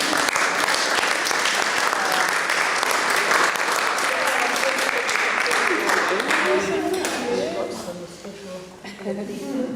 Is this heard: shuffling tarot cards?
no